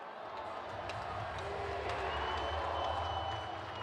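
Hockey fans in a packed college arena (Mullins Center, UMass vs. Maine) roar and applaud continuously, a dense, steady crowd wash with no break.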